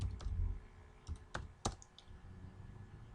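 A computer keyboard is tapped in a handful of sparse, crisp keystrokes while someone writes C code. The quiet clicks are spaced irregularly over a low background hum.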